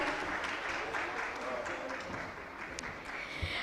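A conference audience at INFOCOM 2025 gives a round of applause, a steady dense wash of clapping held at an even level throughout, with faint voices beneath it.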